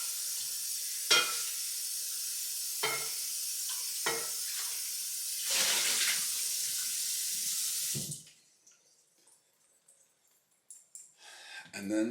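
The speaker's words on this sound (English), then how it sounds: "My fry pan, which I need to rinse off." A fry pan is rinsed under a running kitchen faucet, a steady hiss of flowing water broken by a few splashes and clatters as the pan shifts. The water cuts off abruptly, leaving quiet handling noises.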